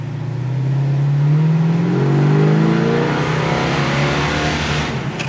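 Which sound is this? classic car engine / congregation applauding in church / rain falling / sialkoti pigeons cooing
classic car engine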